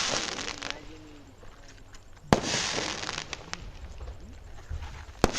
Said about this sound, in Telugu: నా పుట్టినరోజుకి ఎవరో టపాసులు వేస్తున్నారనమాట.